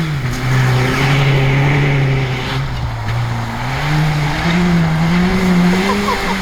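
Lawn mower that had sat unused for about a year, driven hard over grass, a loud steady engine drone with a wavering pitch that dips and climbs as it works.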